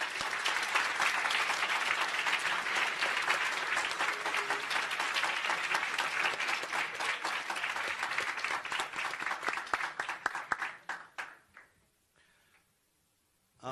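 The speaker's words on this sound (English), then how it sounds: "let's give them all a round of applause." An audience at a university ECE Day awards ceremony gives a sustained round of applause, dense and steady for about ten seconds before tapering off into scattered claps and silence.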